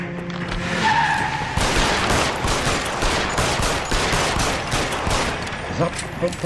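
A shootout in the LA Noire video game, with dense bursts of gunfire and loud crashing impacts running continuously and close, mixed with game sounds.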